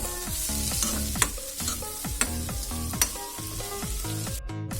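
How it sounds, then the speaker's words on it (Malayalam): Onions and cabbage for chicken tacos are sautéed in a pan, with a steady sizzle under rhythmic scraping strokes of a spatula, several sharp clinks against the pan, all close and fairly loud with no talk. "ഇട്ട് കൊടുക്കും, ഒന്ന് വഴറ്റിയെടുക്കാം കേട്ടോ."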